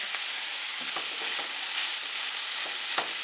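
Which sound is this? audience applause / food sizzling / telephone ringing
food sizzling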